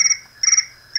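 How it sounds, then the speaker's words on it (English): A cricket-chirp phone ringtone sounds in two loud, clear bursts of rapid, high trilling chirps, separated by a short gap, with a third burst starting at the end and no voices present. "I have the Cricket ring and I forgot to turn it off."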